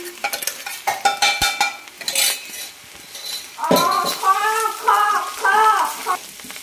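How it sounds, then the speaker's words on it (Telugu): A spoon stirs flat bean and garlic chutney in a pan, giving a run of close metallic scrapes and clinks against the pan, followed by a stretch of tonal, voice-like sounds. "వేసేసుకుని ఒకసారి తిప్పేసుకున్నాం."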